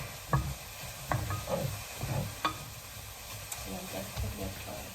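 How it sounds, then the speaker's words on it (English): Tofu and mixed vegetables being stirred in a hot pan, with a steady close sizzle and several sharp utensil scrapes and clicks, while a voice speaks intermittently over the frying. "just gonna stir this slightly"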